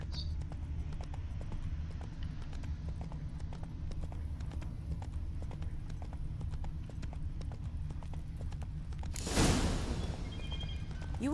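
Roach the horse gallops in The Witcher 3, hooves clip-clopping in a steady rapid rhythm throughout, joined near the end by a brief loud swish or snort over low ambient music.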